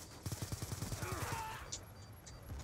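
Rapid video game gunfire in a burst of about a dozen evenly spaced shots, loud and close, followed by a couple of fainter, more scattered pops.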